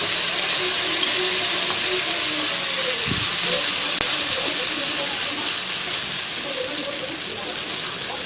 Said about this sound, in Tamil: இந்த பேட்டரை இதில் அப்படியே ஊற்றிடலாம்.